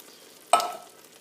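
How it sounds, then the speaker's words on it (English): Kidney beans in chili sauce tip into a hot pan with one sudden close splash-and-sizzle that quickly fades to a quiet background hiss. "now I'm going to add the kidney beans and their chili sauce and the chopped tomatoes"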